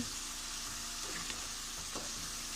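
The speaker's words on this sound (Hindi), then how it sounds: "अब ये मसाले हमने इसमें डाल ली, इसको अच्छी तरह भुनेंगे" Spices frying in hot oil make a steady dense sizzle with a few brief stirring scrapes, close and continuous throughout.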